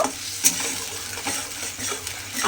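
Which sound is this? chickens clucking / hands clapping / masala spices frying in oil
masala spices frying in oil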